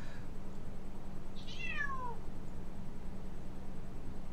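A cat gives a single faint, rising-then-falling meow at a distance, heard over a low steady hum with no talk.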